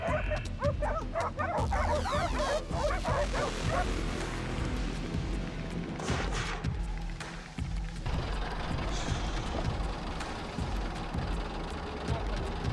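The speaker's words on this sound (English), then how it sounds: "Nearby, barking grew louder. Dogs had cornered another one in a bush." Several dogs bark and yip excitedly at a wild boar cornered in a bush, some whimpering, with a low engine idling in the background and faint voices mixed in.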